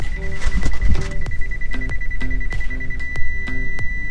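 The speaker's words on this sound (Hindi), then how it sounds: "देखो अब कॉन्टिन्यूस बीप।" Car reverse parking sensor beeping as the car backs toward an obstacle, loud sharp electronic beeps at a steady rhythm over engine rumble, the tones running close together toward a continuous warning.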